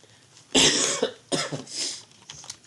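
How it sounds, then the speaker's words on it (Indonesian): Two harsh coughs, close and loud, a brief gap between them, followed by a softer throat-clearing rasp. "sorry, batuk nih."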